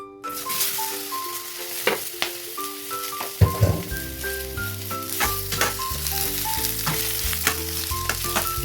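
Oil sizzling in a hot pan: a steady frying hiss that rises sharply when something hits the pan, with a fizzing crackle under tonal background music.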